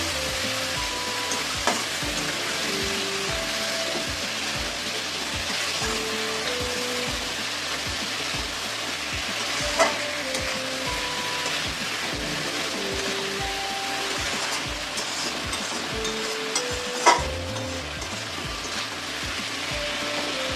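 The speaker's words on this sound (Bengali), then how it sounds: "এবার এটা দিয়ে কষিয়ে নেব মশলাটা দিয়ে।" Spice masala with cumin and ginger being sautéed in oil for a fish curry: a continuous close sizzle with crackling spatter and occasional clinks of a stirring spoon, with no voices.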